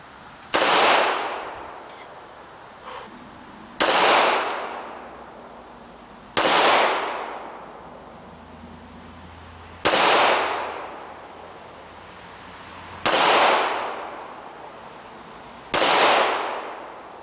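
Six sharp handgun shots fired one-handed with the weak hand at an outdoor range, each a loud crack with a decaying tail, spaced about two to three seconds apart, with no talking.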